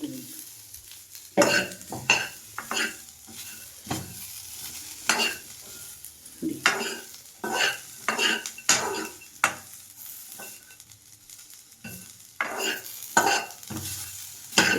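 A coconut piece, onion and turmeric roast in a pan, with rhythmic spatula scrapes and stirs over a low sizzle, repeated strokes close by with brief pauses between.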